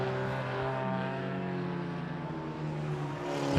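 Stock cars lapping an oval track at a Border Stockcars meeting, their engines a steady, tonal, overlapping drone that swells louder as the pack comes past near the end, with no talking.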